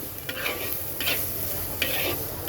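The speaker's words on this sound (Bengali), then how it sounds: "তো চলো এখন পেঁয়াজটাকে আমি সুন্দর করে ভেজে নিই" Onions frying in a pan with stirring, the tool scraping in three distinct strokes over a steady, moderately loud sizzle, with no talking.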